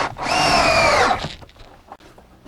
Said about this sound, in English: Then I'm drilling them in with 3-inch all-purpose screws